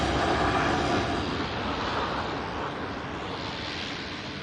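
A newer-version turboprop aircraft with a bigger propeller gives off a broad, close roar that eases slightly as it continues, with no talk.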